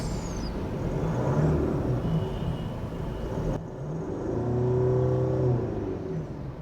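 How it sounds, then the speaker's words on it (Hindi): A Mercedes GLE engine idles and then revs up briefly, a steady close rumble with a swelling rise before settling back, no talking. "ये सुन लो इसके इंजन का साउंड।"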